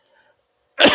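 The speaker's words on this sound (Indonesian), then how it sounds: "Aduh batuk dulu." A single loud, close cough bursts out abruptly after near silence, brief and harsh, from a man pausing mid-lesson in a quiet room.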